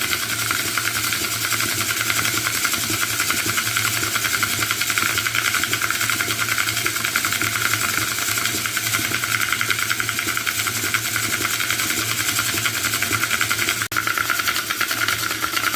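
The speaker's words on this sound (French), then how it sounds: "ça tombe comme une machine à laver, un coup dans un sens, un coup dans l'autre" A rock-polishing tumbler barrel turns on its motor, alternating direction like a washing machine. It makes a constant mechanical hum and rattling drone, loud and close, with a brief knock near the end and no speech.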